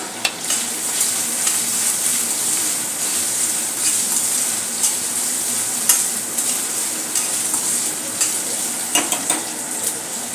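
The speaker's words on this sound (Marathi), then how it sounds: "कॉर्न्सही आपण परतून घेऊया." Corn pieces stir-fried in a pan for Schezwan fried rice, giving a steady, close frying sizzle with light scraping and stirring clatter throughout, no talking.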